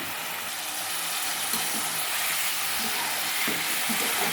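Paneer pieces roasting lightly in ghee in a pan give off a steady, close sizzle and hiss, an even frying crackle with occasional small pops and no talking.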